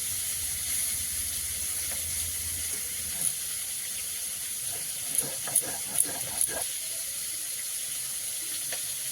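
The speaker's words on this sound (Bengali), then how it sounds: "কড়াইতে মাছ ভাজা তো হচ্ছে" Fish fry in a wok, giving a steady hissing sizzle with occasional soft crackles and pops, close and continuous.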